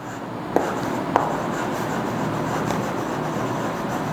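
Steady scratching of writing on a board during a chemistry lecture about solutions, with two sharp taps from the board near the start, then an even, faint scrape over a constant room hiss.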